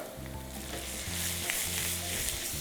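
Steady, busy sizzling of chopped tomatoes frying with raw onion in a pan for vegetable fried rice, with faint stirring and scraping, close and continuous, no talking.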